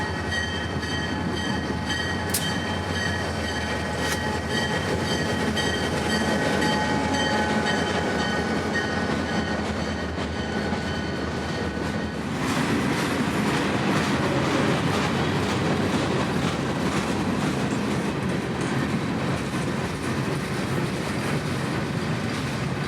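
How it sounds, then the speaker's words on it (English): FEC 945 local freight train rolls through a South Florida station on the West Main line, a steady loud rumble of railcars with rhythmic clickety-clack and a faint wheel squeal, no talk. "a train would be lined on the West Main right through the station, calling as FEC 945"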